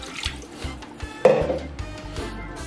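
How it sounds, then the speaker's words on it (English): Water poured into a pot of Delta owoh soup, a short splashing trickle rising in the middle against quiet kitchen background, close and moderate in level. "I'm going to be adding more water."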